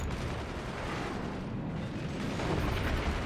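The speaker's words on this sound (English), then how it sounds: "Cannon shot, whiff." Cannon fire and explosions boom in the physics-based strategy game Forts during a tournament match, a dense, continuous roar of heavy blasts and rumble with no voices.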